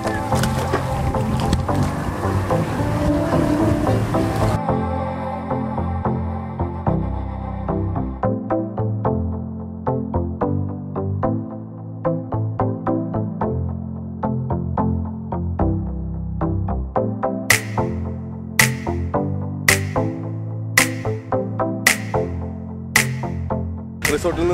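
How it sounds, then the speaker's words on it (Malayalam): A boat carries passengers from a Maldives resort to a nearby island, its engine and water rush roaring loudly and steadily for about four seconds before music takes over. "റിസോർട്ടിൽ നിന്ന് അങ്ങനെ ബോട്ടിൽ യാത്ര ചെയ്ത് നമ്മൾ നമ്മുടെ ഐലൻഡിലെത്തി"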